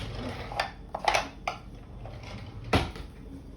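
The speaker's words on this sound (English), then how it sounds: "I'm getting a spoon" Someone fetches a spoon from a kitchen drawer during Passover baking, making a few sharp metallic clinks and clatters of cutlery and wood spread over a few seconds, close by and without talk.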